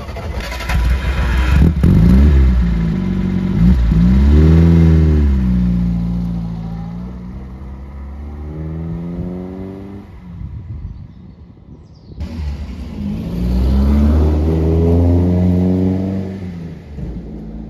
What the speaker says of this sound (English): this is a Reliant Supervan 3